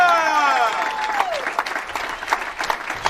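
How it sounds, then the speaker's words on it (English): Applause from spectators at a televised professional women's bowling tournament final, opening under fading announcer speech and continuing as scattered, lively clapping from a moderate crowd. "another great big round of applause for all of our competitors"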